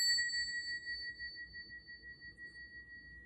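A small crystal singing bowl tuned to the sacral chakra rings alone, a steady sustained tone with bright overtones that hangs quietly and fades slowly over the whole stretch.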